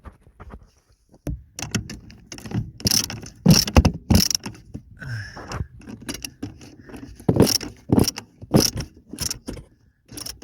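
A nut is tightened on a faulty Honda Civic clutch master cylinder, giving repeated close metallic clicks and ratcheting bursts in an uneven rhythm, with no talk.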